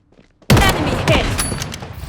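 Sudden loud burst of rapid gunfire in the mobile shooter Blood Strike during a 4v4 ranked squad fight, opening after a near-silent moment and rattling on with sharp cracks.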